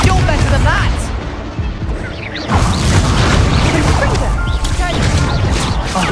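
A Confringo spell explosion in the video game Hogwarts Legacy makes a loud crashing blast around the middle, with smaller cracks and whooshing effects around it and a voice talking over the scene.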